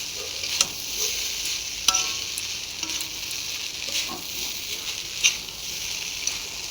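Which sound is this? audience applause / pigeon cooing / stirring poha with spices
stirring poha with spices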